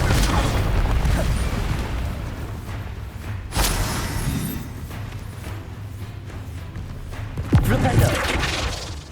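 Confringo blasting spells burst in Hogwarts Legacy, two sharp explosive cracks a few seconds apart over a constant rumble of game ambience and spoken voices.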